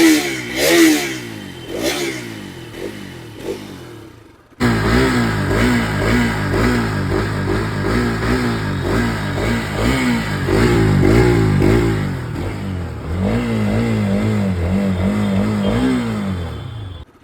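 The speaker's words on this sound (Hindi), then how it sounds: "अब एक बार मैं बाइक को ऑन करता हूँ, बाइक की आपको मैं आवाज़ सुनाता हूँ।" A 2023 Bajaj Pulsar RS 200 BS7 E20 motorcycle starts up and idles, then its engine is revved repeatedly in rising and falling bursts, loud and close, before settling back to a steady idle.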